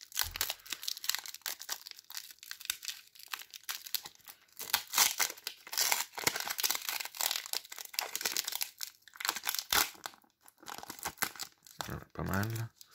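A sealed Pokémon booster pack is torn open close to the mic, with repeated crinkling and ripping foil wrapper noises in irregular bursts while someone talks in French.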